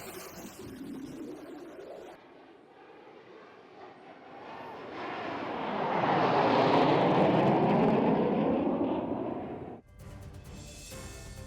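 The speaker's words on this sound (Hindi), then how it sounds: "सुखोई, जगुआर और मिराज किस तरीके से दहाड़ेगा आज आसमान में" Sukhoi, Jaguar and Mirage fighter jets roar overhead during an air force exercise, the engine noise swelling to a loud, broad rush before cutting off abruptly, with no voices.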